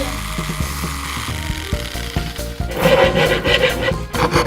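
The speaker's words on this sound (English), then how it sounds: "We're filing to make the handle smooth." Rhythmic rasping strokes of a file smoothing a wooden scooter handle, quick and close, growing louder and rougher toward the end.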